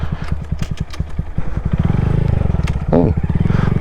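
A Honda Grom motorcycle engine runs close by with a rapid, choppy putter that stutters and surges as it slips between gears, with a brief clatter midway.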